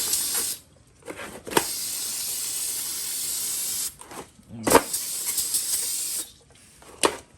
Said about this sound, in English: take some brake clean and spray both sides